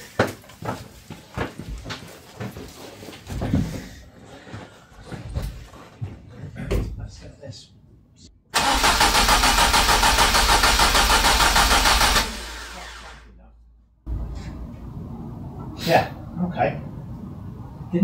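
A Ford Escort Mk1 engine cranks after an ECU upgrade, a loud steady whirring burst of about four seconds, with people talking and clattering before and after.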